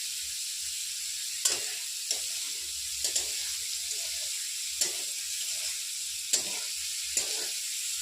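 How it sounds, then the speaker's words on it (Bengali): Steady hiss of fish frying in hot oil, with a few sharp crackles and pops spaced out across the sizzle. "তো ভয়ে ভয়ে মাছগুলোকে ভাজি।"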